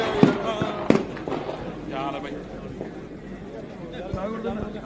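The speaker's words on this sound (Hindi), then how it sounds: "देखिए किस तरह से गोलीबारी हुई थी और जिस वक्त गोलीबारी हुई उस वक्त माहौल क्या था" Gunfire at a kabaddi tournament: two sharp, loud bangs about half a second apart, followed by restless crowd noise and voices talking and shouting throughout.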